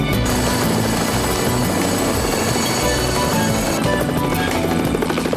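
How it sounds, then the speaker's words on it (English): A British military helicopter flies in close to drop someone off at a prepared landing pad, its rotor and engine roaring loud and continuous with no other sounds. "The British military had to fly in here last week on a special mission to prepare a safe landing pad for Steve's drop-off"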